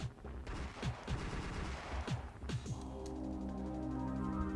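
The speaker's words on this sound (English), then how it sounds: "we heard a tremendous bang outside her front door" Gunfire in the visual-novel game Higurashi When They Cry: a series of sharp, loud shots in rapid succession, then a lingering tonal hum as the firing stops.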